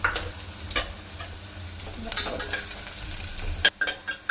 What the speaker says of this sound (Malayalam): അപ്പം നമുക്ക് കുറച്ച് ഒനിയൻ നമുക്ക് ഫ്രൈ ചെയ്തെടുക്കാം